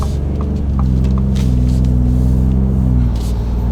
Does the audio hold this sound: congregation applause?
no